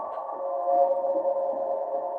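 Main theme ambience from the Five Nights at Freddy's video game: a steady, droning hum that holds at an even level throughout, with no voices.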